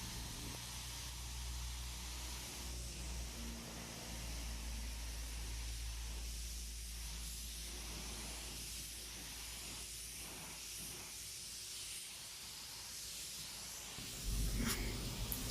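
A spray gun sprays paint onto a Chevy truck in auto body work, giving a continuous soft airy hiss that holds steady for a long stretch, close but fairly quiet, with a slight bump near the end.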